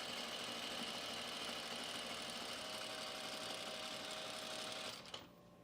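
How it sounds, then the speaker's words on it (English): A sewing machine runs steadily as it stitches a stretched strip of fabric onto a T-shirt to make a ruffle top, giving a continuous close mechanical whir for about five seconds before it stops. "now we're just going to sew it on there, holding it stretched"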